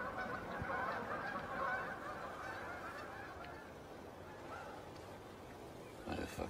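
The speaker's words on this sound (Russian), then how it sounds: "Заткнитесь вы, гуси!" A flock of geese honks steadily, the dense overlapping cackling carrying at a distance across an outdoor setting, loud and continuous throughout with no talk over it.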